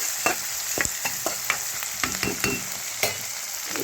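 Ingredients for a ridge gourd curry fry hard over high heat, a steady close sizzle broken by scraping stirs, with no talk.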